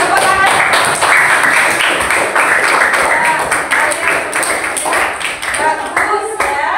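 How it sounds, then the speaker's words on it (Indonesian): Classroom children clapping hands together in appreciation, a dense run of quick claps filling the room at close range, with a teacher's voice and chatter mixed underneath throughout. "Tepuk tangan."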